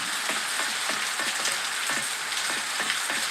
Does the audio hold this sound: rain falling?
yes